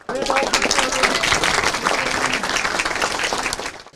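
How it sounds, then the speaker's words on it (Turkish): Sustained applause from a sizable crowd greeting Aziz Sancar at TÜBİTAK's Gebze campus, dense clapping that stays loud and steady before fading at the very end. "TÜBİTAK'ın Gebze kampüsünde alkışlarla karşılanan Sancar, geleceğin parlak beyinleriyle buluştu."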